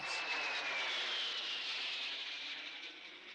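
Harrier jump jets fly mock air attacks over Belize City, and one passes as a fairly faint, steady jet roar with a high whine that slowly fades.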